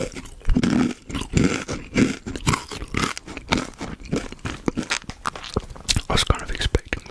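Chili and lime Mexican snack chips crunched up close, with sharp bites followed by repeated chewing crunches and soft talk between mouthfuls.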